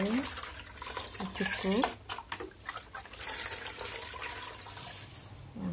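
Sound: pouring water onto potted plants

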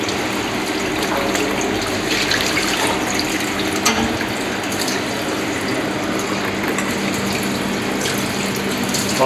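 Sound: washing a parrot fish under running water

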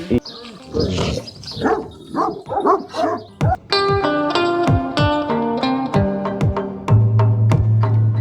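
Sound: Kangal dogs barking at breeding farm

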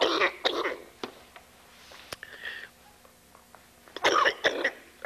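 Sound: man coughing

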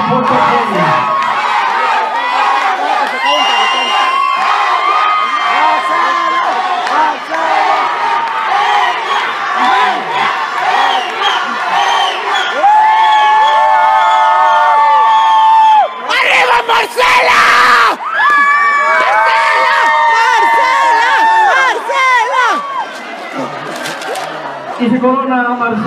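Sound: audience cheering and applauding at a beauty pageant crowning

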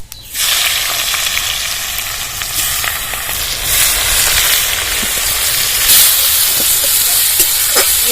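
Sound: chopped onions frying in hot mustard oil

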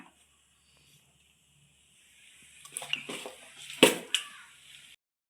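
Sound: mixing curry paste by hand

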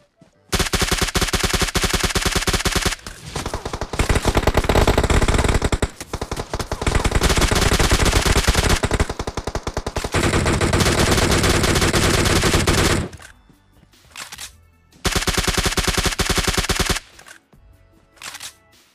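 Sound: gunfire during a fight in the video game PUBG Mobile

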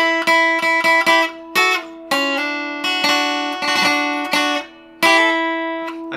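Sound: requinto guitar playing a riff

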